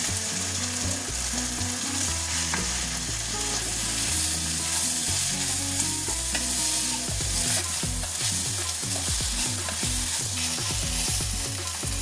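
Softened tomatoes frying in a pan with coriander powder, chili powder, turmeric and chicken masala, a continuous close sizzle and repeated stirring scrapes, with strong rhythmic music playing throughout.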